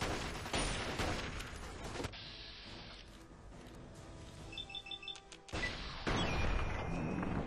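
Rapid minigun fire bursts out in the Fallout 3 Point Lookout DLC at Calvert Mansion, loud and dense at the start and again near the end, with a quieter stretch of game sounds in between.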